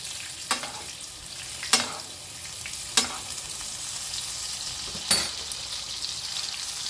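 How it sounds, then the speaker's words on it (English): A steak frying in a hot pan hisses steadily, with a few sharp spattering pops standing out over the constant sizzle, close by and with no voices. "And then it will still cook the steak."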